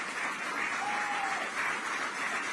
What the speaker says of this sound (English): there he is, walking into some applause.